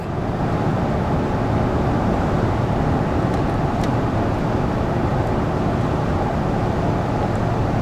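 Toyota Tundra pickup towing at maximum load up a 6% grade after a downshift into fourth gear, a steady, loud broadband engine and road drone that holds even throughout with no break and no voices.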